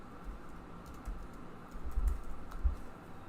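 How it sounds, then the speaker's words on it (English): Typing on a computer keyboard, entering button text in a web page builder: soft, irregular key clicks close by, thickening into a busier run of taps near the end, with no voices. "under text you can type whatever text you want"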